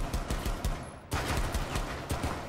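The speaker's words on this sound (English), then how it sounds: "Pistol battle." Quick repeated pistol shots in Rainbow Six Siege, a rhythmic string of sharp close cracks with a brief pause midway, then more rapid firing.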